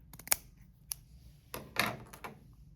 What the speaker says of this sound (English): what you will need to do is snip off your old one